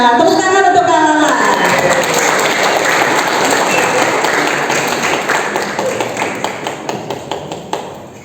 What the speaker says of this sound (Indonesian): Tepuk tangan untuk Kak Lala.